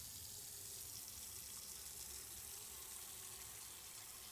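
Water runs steadily into a container in a morgue setting in Autopsy Simulator, a soft continuous gushing pour like a faucet filling a vessel, faint and unbroken throughout.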